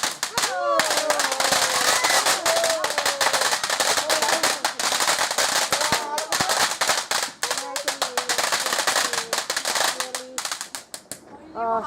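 Fireworks and firecrackers go off on a November bonfire night, a rapid crackling barrage of loud pops and bangs with a few whistling rockets, while people cheer and talk underneath.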